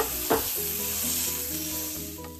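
Boiled green peas sizzle steadily in a hot pan while being sautéed and pressed with a masher, a close constant frying hiss with a few soft scraping knocks.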